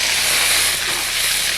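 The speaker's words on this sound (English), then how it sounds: "that's sort of this explosive stir-fry sound that's very joyous" Vegetables go into hot oil for a stir-fry, giving a loud, steady, close hiss of sizzling that continues without pause.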